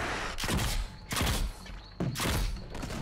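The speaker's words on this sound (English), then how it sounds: "I got the sticky grenades going" Repeated heavy blasts from a grenade launcher firing sticky grenades in the game Nosgoth, set in Freeport, three loud booming bursts with rumbling tails in quick succession, no voices.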